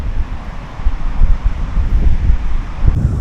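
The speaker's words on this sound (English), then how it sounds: "It's very windy today." Strong wind buffets the microphone on a windy surfing beach with sand dunes, a loud, steady roar with gusts swelling throughout, likely mixed with distant surf.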